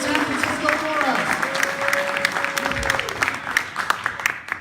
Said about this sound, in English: Give David Schmidt, our San Francisco coordinator, a big round of applause and keep it going here in San Francisco for us.